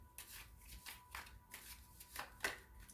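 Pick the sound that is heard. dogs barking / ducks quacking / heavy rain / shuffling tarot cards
shuffling tarot cards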